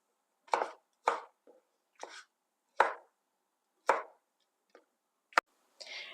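A knife coarsely chops tomatoes on a cutting board with about eight crisp, separate strikes at an uneven pace, close and clear against silence.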